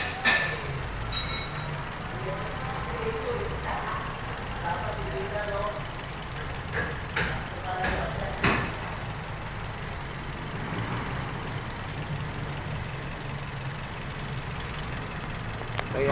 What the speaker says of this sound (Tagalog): Pinaandar muna siya para malinisan yung loob ng makina.